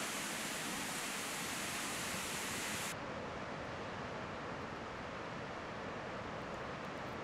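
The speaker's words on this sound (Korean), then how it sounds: "뒤에서 바라본 폭포는 가슴이 시원해질 정도로 색다른 모습이었다." A waterfall in Iceland, heard from behind the falling water, gives a loud, steady, close rushing roar that continues throughout, its hiss dulling slightly partway through.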